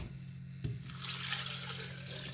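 Ice-cold water pours into a blender while jelly is being made, a bright steady splashing stream that starts with a soft knock and runs on evenly until the end.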